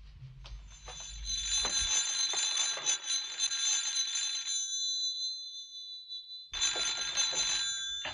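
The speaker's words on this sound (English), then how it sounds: "Would you answer the phone, please?" An old telephone bell rings in loud, sustained bursts, stopping for about a second and a half before ringing again, with a faint low rumble at the start and no talk.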